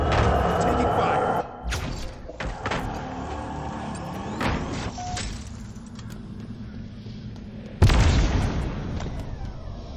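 Incoming weapons fire and explosions in a sci-fi war video game: heavy booms and bursts, a sharp loud blast near the end, with a voice talking over the din.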